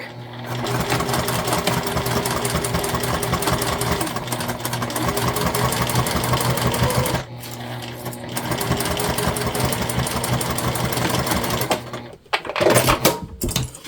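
A sewing machine runs in long, steady bursts at normal stitch length, stitching together a crossbody bag, with a short pause partway through and a few handling clatters near the end; a voice talks briefly over the machine.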